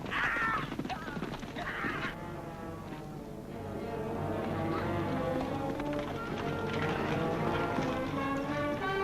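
A horse's hooves clip-clop at close range, quick and irregular, while voices and a crow-like caw break in over the top and a steady background rumble runs beneath.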